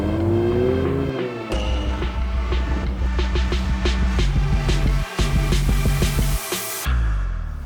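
A 2020 Toyota Supra sports car drives in close by, its engine loud and steady with shifting revs and a strong low rumble throughout, no talking.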